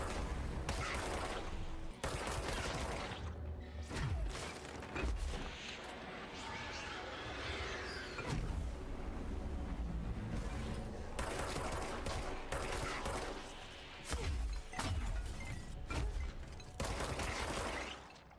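Rapid bursts of gunfire from the video game Control, aimed at strange objects, crackle loudly and almost continuously, with brief pauses between volleys and a dense rattling texture throughout.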